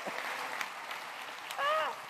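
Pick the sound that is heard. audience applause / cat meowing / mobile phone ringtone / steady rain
audience applause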